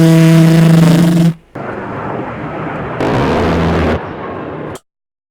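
An A-10 Warthog killstreak attack in the Modern Warfare video game, a loud dense roar of gunfire and blasts in abrupt back-to-back sections that cuts off suddenly.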